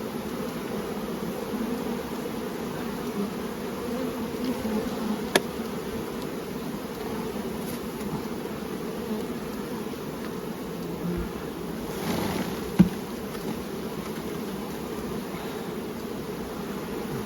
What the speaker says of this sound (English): that is enough bees